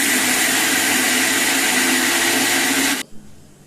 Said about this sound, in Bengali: চালটা পেস্ট করে নিচ্ছি।